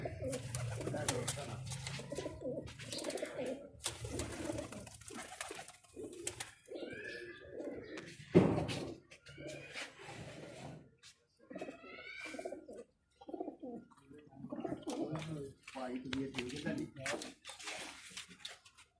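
A flock of kept pigeons coo softly in the background while someone talks at length over them in Urdu, with occasional flutters and a sharp knock.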